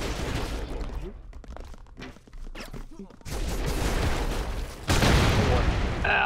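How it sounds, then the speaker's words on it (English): Explosions in the video game Broforce: a burst of booming blasts and rapid gunfire-like crackle, loud and close, building into a heavier roaring wall of noise toward the end. "A little bit of an explosion there."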